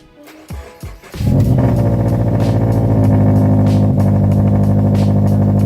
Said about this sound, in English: Let's start the car up and see what it sounds like with 62-degree weather.